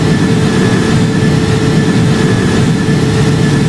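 Jet engines of a Lufthansa Airbus A330 roar steadily at takeoff power in the Project Flight video game, a loud, continuous broadband rumble that holds constant throughout with no talk.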